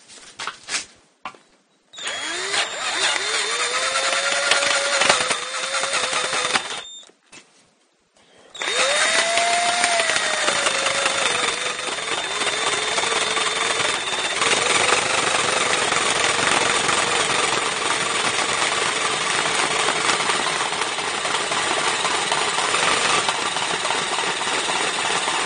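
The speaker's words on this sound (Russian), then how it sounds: "И будем теперь продолжать сверлить." Metal being drilled with a hole saw bit on a power drill: a loud continuous whine that rises as the motor spins up, stops briefly twice, then grinds steadily on, close and without talk.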